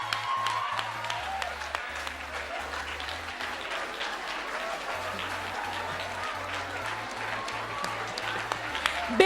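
Audience applause greets the LASCO Teacher of the Year award going to a St. Elizabeth Technical High School teacher, steady crowd clapping sustained throughout over a low, rhythmic musical bed, with a voice briefly heard.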